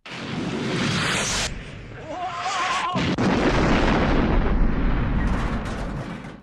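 Loud booming explosions with rumbling blasts and debris, layered with whooshes and a brief rising whine, dense and continuous, from a James Bond film action scene.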